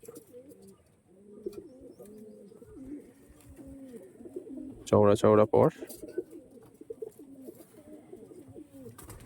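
Pigeons coo in low, soft, repeated phrases close by, with a voice talking over them partway through.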